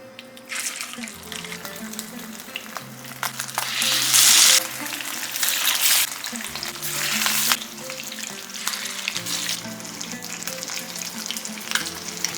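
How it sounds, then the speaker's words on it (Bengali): Pieces of rohu fish drop into hot mustard oil and fry with a loud, close, continuous sizzle, swelling in sharp bursts as each piece hits the oil, with no voices over it. "তেল বেশ ভালো করে গরম হয়ে যাওয়ার পরে একে একে মাছগুলো ছেড়ে দেব।"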